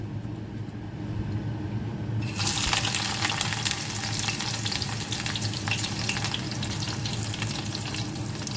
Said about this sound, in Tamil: சூடானவுடனே வெங்காயத்தை போடுவோம்